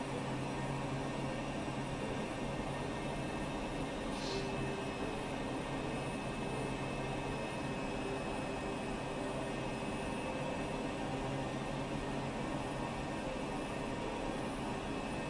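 Bush plane engine held at full throttle in a flight simulator while climbing through Himalayan mountains, a steady droning hum with constant tonal whine, unbroken and moderately loud throughout.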